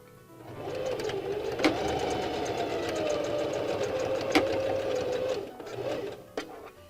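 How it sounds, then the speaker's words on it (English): A home sewing machine runs steadily for about six seconds, stitching elastic into the casing of pajama pants, its motor whirring close and loud with a few sharp clicks along the way. "Now I'm taking it to the machine."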